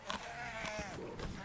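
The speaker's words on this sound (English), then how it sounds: "I'm being harassed by a bunch of goats too." Goats in the video game DayZ bleat close by, a couple of wavering calls over quiet game ambience.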